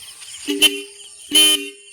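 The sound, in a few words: motorcycle horn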